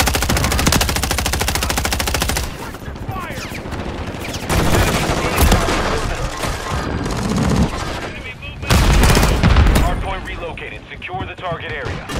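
Call of Duty gameplay erupts in loud, rapid automatic gunfire, with long sustained bursts and short pauses between them, while game voices call out over the shooting.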